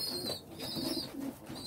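A white racing pigeon coos in short throaty bursts, close and fairly soft, with a few quick repeated phrases.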